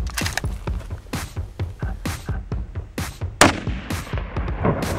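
Rifle shots at a game animal crack out during a hunt as a rapid series of sharp reports, some louder and nearer than others, ringing out with no talk.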